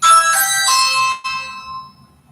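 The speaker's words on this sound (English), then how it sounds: "Sorry, that was my Ring doorbell." A Ring doorbell chime plays a short sequence of bright, ringing tones indoors, followed by a lingering fade.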